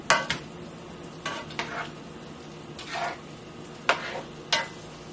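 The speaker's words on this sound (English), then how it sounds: "Stir it in really good." Chicken, vegetables and pasta being stirred in a hot pan over medium heat, with several distinct scraping strokes of a utensil against the pan spread across a low, steady sizzle, close and fairly quiet.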